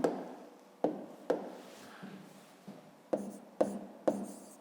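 Labels being written on a number line for a fifth-grade math exercise: a series of sharp tapping strokes, about seven spaced irregularly, each with a brief scratchy tail, close and fairly quiet with no talking.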